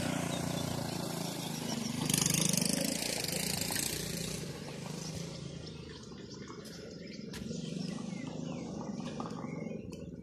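A four-wheel quad bike engine drones below a bridge beside the Raba river in Bochnia, Poland, swelling louder and then easing back, blended with the rush of flowing water.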